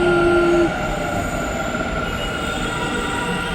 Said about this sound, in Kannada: ಟ್ರೈನ್ ಕೂಡ ಬಂತು.